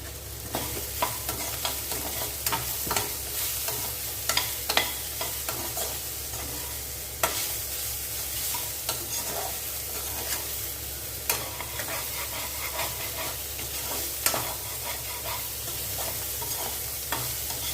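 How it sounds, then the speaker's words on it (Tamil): Bitter gourd and garlic sautéing in a pan with salt, a steady sizzle under repeated stirring and scraping scrapes, close and moderately loud with no talking. "அந்த பூண்டு பச்சை வாடை போகிற அளவு நம்ம வதக்கி கொடுக்கணும்."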